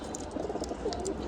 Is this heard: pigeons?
yes